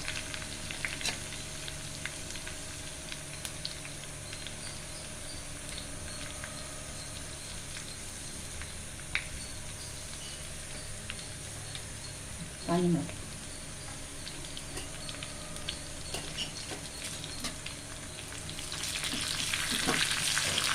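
Garlic fries in hot oil until browned, a faint, even sizzle running continuously with a few brief clatters and a louder hiss toward the end.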